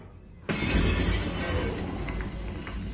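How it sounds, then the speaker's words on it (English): Glass shatters loudly in a movie sound effect: a sudden sharp crash followed by a sustained spray of tinkling shards that slowly settles, with a few small pieces still falling at the end. "You won't just hear glass break."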